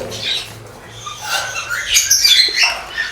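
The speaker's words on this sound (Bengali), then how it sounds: "এই তিন পেয়ার আমার হচ্ছে রানিং বাজরিকার" Budgerigars in an aviary give short squawks and chirps in a busy, close burst of overlapping calls with no talk.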